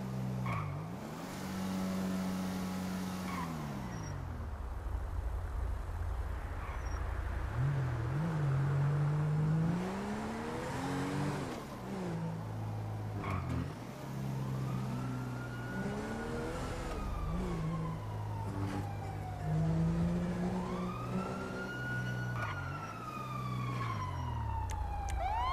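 A car driven through the streets of Los Santos in GTA V revs and shifts repeatedly, its engine rising and falling in pitch over a long stretch, with a siren-like wail mixed in and no talking.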